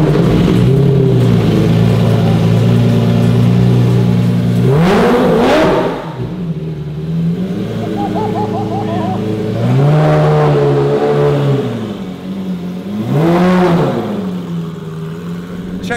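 A Mercedes revs its aftermarket exhaust in a few loud, rising bursts with a steady idle between them, up close. People's voices come in briefly around the revs.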